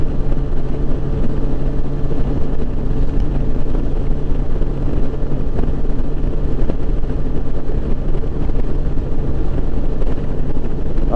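A 2007 Yamaha FJR 1300 sport-touring motorcycle cruises at a steady 4,200 RPM, a continuous loud engine drone blended with heavy wind rush, unbroken and even for the whole stretch, with no talking.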